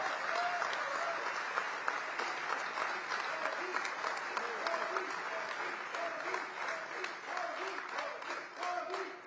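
Sustained applause from a large audience in the US Congress welcoming Prime Minister Modi, dense steady clapping filling the hall for the full stretch without a break.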